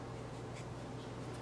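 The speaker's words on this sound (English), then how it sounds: "I use a lot of painter's tape for labeling." A marker writes a label on a strip of painter's tape for a jar of buttermilk culture. The scratchy stroke is faint and steady for about a second and a half.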